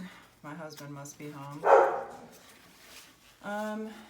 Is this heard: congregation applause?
no